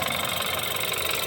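A 2013 BMW 328i engine runs steadily after a misfire fix, giving a continuous, even mechanical hum with a faint ticking texture, close and constant, with no voices.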